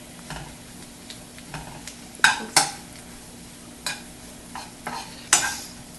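Spinach wilting in a hot pan sizzles softly and steadily for a Cuban-style cheese empanada filling, broken by a few sharp utensil scrapes and clinks against the pan.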